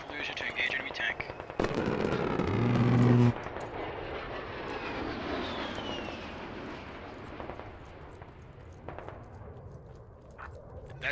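An A-10 jet passing overhead in the military shooter Squad, a loud engine roar that swells and then slowly fades as it flies away, with scattered sharp bangs and clicks of gameplay around it.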